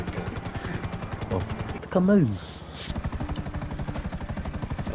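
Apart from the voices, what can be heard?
helicopter in a video game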